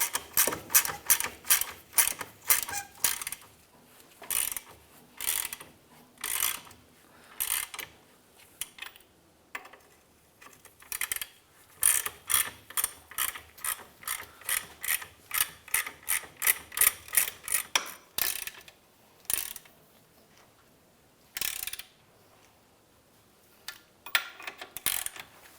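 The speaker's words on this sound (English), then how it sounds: "all of our bolts are now in place and we can start to tighten things down" A ratchet tightening bolts on the rear differential damper mount of a 2003-2011 Honda Element, heard as long runs of fast, sharp, close clicks broken by short pauses, with no talk.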